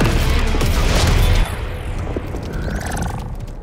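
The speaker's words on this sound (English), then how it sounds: "Activate Sonic Boom!" Sonic Boom attack from the fighting game Mortal Kombat 1, a loud heavy booming blast that holds for over a second, then drops into a sustained rumbling whoosh with a rising whine near the end.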